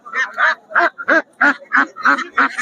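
Belgian-breed ducks quack in a close, loud series of about nine harsh calls, evenly spaced and overlapping slightly, with no talk over them.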